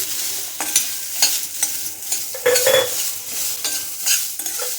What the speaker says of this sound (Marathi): आपण गॅस बंद करूया परतून घेऊया